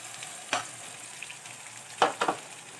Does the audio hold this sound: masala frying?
yes